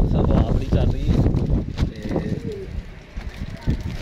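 Low pigeon coos sound near a voice talking, with rustling and background chatter mixed in.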